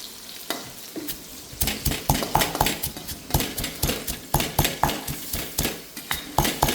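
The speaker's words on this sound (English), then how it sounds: "Now you can pound chili." Dried chili is pounded in a mortar for Tom Yum chili paste, giving steady, rhythmic thuds close up, each blow sharp and heavy, repeating about twice a second with no talk.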